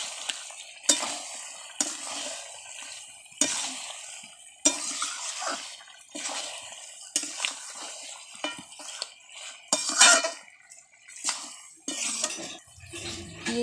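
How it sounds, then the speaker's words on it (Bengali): Fried potatoes stirred into spices in a cooking pan for a chicken and potato curry, the spoon scraping and clinking against the pan in repeated strokes with a soft sizzle underneath. "আলুটাও ভালো করে মশলার মধ্যে মিশিয়ে নিচ্ছি।"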